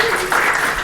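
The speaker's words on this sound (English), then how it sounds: "this applause was for the awesome volunteers that run the tours" Audience applause for the volunteer tour guides at a science career panel, a brief steady wash of clapping filling the room from start to finish.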